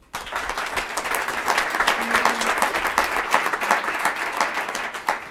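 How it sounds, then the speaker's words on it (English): A morning meetup audience applauds, a dense, steady wash of clapping that starts abruptly and carries on for several seconds at moderate distance. "Give them a round of applause."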